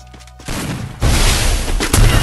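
Gunfire in the mobile shooter Free Fire during a headshot fight: a dense, loud barrage of rapid shots and booming impacts, rising after a brief quieter start and continuing without pause.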